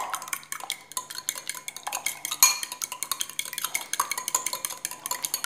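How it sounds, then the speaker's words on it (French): Eggs being lightly whisked in a bowl, close by and alone, with quick, even strokes of the whisk clicking against the bowl in a steady rhythm. "je vais d'abord commencer par fouetter légèrement les œufs"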